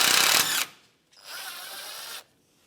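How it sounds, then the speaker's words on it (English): A ratchet with a 10mm socket turns a nut off an AC line on a 2007-2013 Mitsubishi Outlander, giving two close bursts of rapid clicking, a short one then a longer one, with a brief pause between. "I'm going to remove this nut here off of this line and use a 10mm socket."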